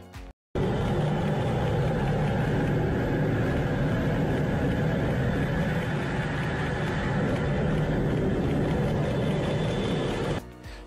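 Blue Angels jet aircraft roar past in a loud, continuous broadband rush that begins abruptly and holds steady for about ten seconds before cutting off.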